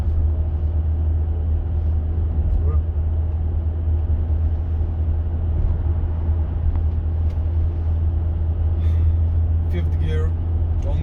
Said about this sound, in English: fifth gear on the highway.